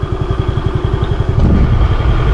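A motorcycle on a ride to Riverston idles loud and close with a rapid, even throbbing, then the sound shifts to a rougher, fuller rumble partway through.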